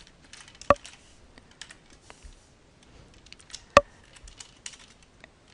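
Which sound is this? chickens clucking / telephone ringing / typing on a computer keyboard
typing on a computer keyboard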